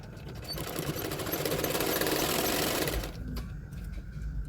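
A sewing machine runs a continuous tacking seam on a lined double katori blouse, size 36, whirring fast and close for about three seconds before stopping, followed by a brief click and quiet handling.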